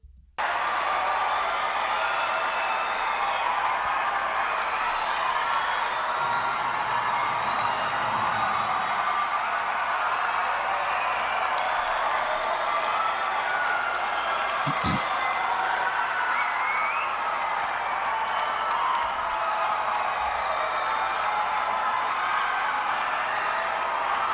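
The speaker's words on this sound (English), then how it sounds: "40 more seconds of crowd cheering and whatnot" A crowd at a metal concert at Brixton Academy cheers and applauds in a continuous, dense roar that stays loud for the whole stretch, with occasional whoops.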